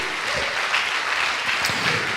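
A church audience claps steadily and evenly, a dense patter of many hands at moderate distance with no voices standing out.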